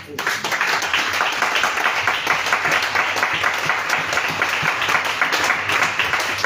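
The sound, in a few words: congregation applauding to acclaim the Lord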